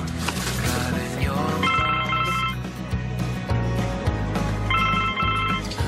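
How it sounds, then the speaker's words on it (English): A phone rings in two short repeated bursts, partly buried under loud background music. "why are you answering Oscar's phone?"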